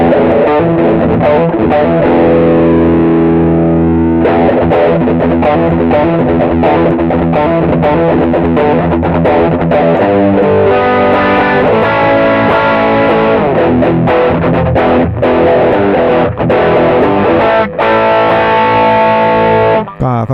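An electric guitar played through an Ibanez JD-9 Jet Drive distortion pedal, sustained chords and riffs with a gritty, fairly clean-edged overdriven tone, continuous throughout.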